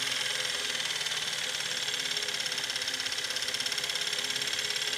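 A variac-powered motor spins a disc at around 2000 RPM, giving a steady, even whirring hum with a fast fine pulse, close and constant, no voices.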